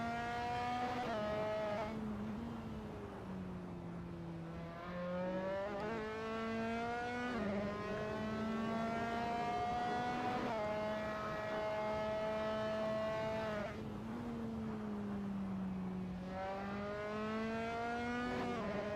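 A race car in a racing video game climbs out of the slow turn 6 hairpin at Lusail, Qatar, its engine revving up through repeated gear changes with rising whines.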